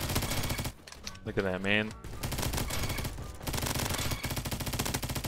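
Hip-fired MP7 submachine gun in a video game, rapid bursts of close automatic fire that break off briefly while someone speaks, then resume as steady rattling shots.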